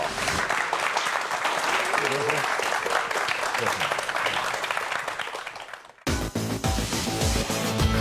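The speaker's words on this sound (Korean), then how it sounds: "두 분의 주인공 박수로 모시겠습니다" Audience applause welcoming two geology lecturers onto a stage at a talk on earthquakes and volcanoes, a dense roar of clapping lasting about six seconds, then a cut to music and voices.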